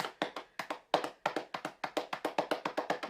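Hands tap in quick irregular bursts to imitate heavy raindrops hitting pavement, a close, crisp patter of around two dozen sharp taps over a few seconds, with no talking.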